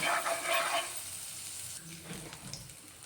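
Crushed ginger and garlic frying in hot oil for an egg curry, a soft steady sizzle that is brighter at first and then settles into a quiet hiss.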